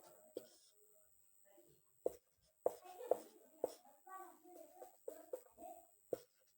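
Marker or chalk writing on a board during a lecture, a series of sharp taps and short scratchy strokes under quiet intermittent speech.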